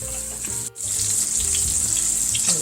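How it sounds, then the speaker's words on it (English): A beef pot roast sears in hot oil, giving a close, loud, continuous sizzle with a brief dip partway through and faint clatter underneath. "Maybe you should brown it a little more than that, but that's good enough to sear it there."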